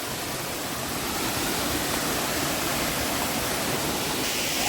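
A waterfall at Thadikarankonam in Kanyakumari roars as a steady, loud, broadband rush of falling water close by, unbroken for the whole stretch, with no voices.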